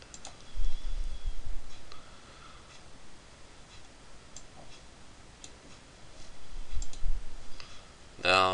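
A computer mouse clicks while drawing in MS Paint, with scattered soft clicks over quiet room tone and a faster run of clicks at the end, plus a few low thumps.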